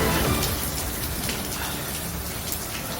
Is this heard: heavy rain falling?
yes